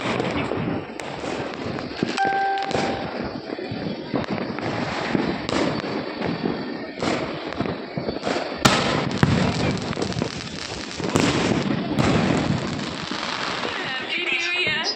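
New Year firecrackers burst continuously all around, a dense run of sharp cracks and bangs at varying distances, with some loud nearby pops and faint voices mixed in beneath.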